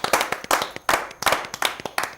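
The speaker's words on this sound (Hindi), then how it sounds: "हम सबका स्वागत करते हैं जोरदार तालियों के साथ।" An audience claps at a Hindi poetry gathering, a near, crisp run of separate hand claps in quick uneven bursts that pulse and fade over a couple of seconds.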